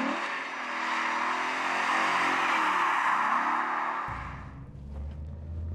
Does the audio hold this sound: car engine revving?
yes